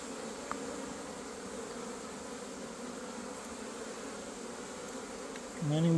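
Honeybees hum steadily around a hive entrance in spring, a dense, continuous buzzing of many insects close by, holding even throughout with a slight swell near the end.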